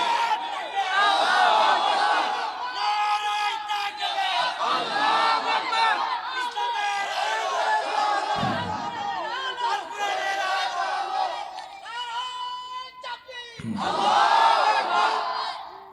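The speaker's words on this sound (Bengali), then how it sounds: "দাও তাকবীর একটা দাও।" A large crowd at a Bangla religious sermon rally shouts loud, sustained chanting in reply to a call, with voices swelling and dipping in waves, a brief lull near the end, then a renewed surge.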